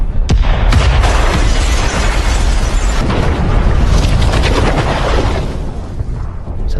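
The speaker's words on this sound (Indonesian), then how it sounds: "Daniel pun meninggalkan mereka dan bom pun meledak" A bomb explodes in a film scene, a loud, sustained roaring blast with heavy low rumble and crackling debris that slowly fades.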